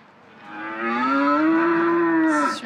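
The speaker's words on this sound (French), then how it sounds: "on va entendre la vache" A cow gives one long, clear moo lasting about two seconds, rising and then holding steady before tailing off, close and fairly loud with nothing else around it.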